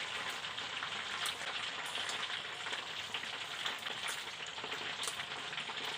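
Pork leg (pata) frying in hot oil, a dense steady sizzle with scattered sharp pops and crackles throughout, close and loud with no voices.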